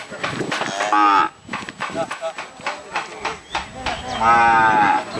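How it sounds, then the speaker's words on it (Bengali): Holstein Friesian cattle at the Hathazari cattle market in Chattogram, giving loud, close, drawn-out moos, one near the start and another near the end, with people talking between the calls. "ওনারা 3টা গরু নিয়ে আসছে, একদম ওয়েস্টার্ন ফ্রিজিয়ানও রয়েছে এখানে"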